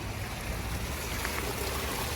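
Water from a koi pond waterfall spills in a steady, even rush, a continuous broadband wash close by with no pauses and no voices.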